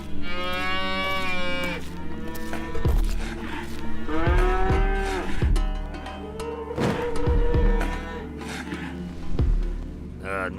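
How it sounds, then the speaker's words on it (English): Cattle moo repeatedly, several long drawn-out bellows one after another from a herd, loud and close, with no speech. "You certainly do have a lot of cattle."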